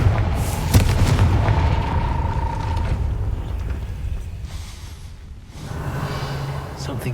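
A Confringo fire-spell blast in the Hogwarts Legacy video game, sounding as a heavy booming rumble with creaking, mechanical tails that swell and fade across the clip, with no talking.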